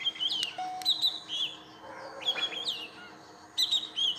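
Small birds chirp and tweet outdoors in short, bright bursts of calls, some near and some farther off, separated by brief quiet gaps.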